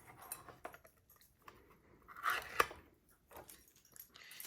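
Metal cans of pineapple slices or chunks being opened with a can opener, heard as quiet, close clicks, scrapes and a sharper metallic crunch partway through, alone without talk.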